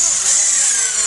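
A power drill drives screws into wood during drywall hanging, a loud, close, continuous high whine with a slight grinding edge that holds steady throughout, no voices.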